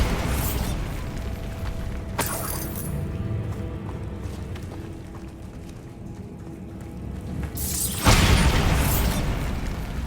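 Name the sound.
Bombarda blasting spell explosion, Hogwarts Legacy video game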